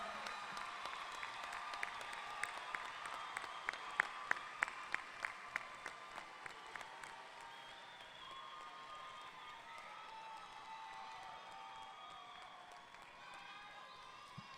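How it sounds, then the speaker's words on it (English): Audience applause at a fall commencement ceremony, sparse claps growing into steady clapping that continues as a broad wash through the hall, with faint voices mixed in. "Big round of applause, ladies and gentlemen."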